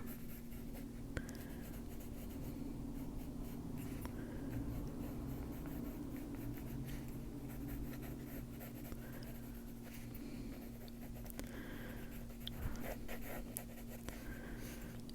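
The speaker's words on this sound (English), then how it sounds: "And then just wiggle your hand to make some lines in it. Turn the pencil so you always have a sharp edge." Pencil drawing wiggly lines on paper in a coloring book, a quiet close scratching that continues steadily under a faint background hum, with brief louder strokes.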